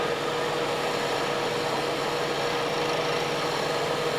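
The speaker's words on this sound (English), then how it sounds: "A little tougher to shear scrape on a spindle, but I'm going to do it." A wood lathe spins a wooden spindle while a tool is shear scraped along it. The result is a steady, continuous whirring hiss with constant loudness throughout and no speech.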